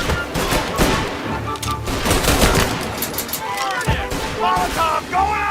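Dense rapid gunfire from the video game Mafia Definitive Edition, with sustained bursts and single shots layered into a loud continuous barrage, under shouted voices.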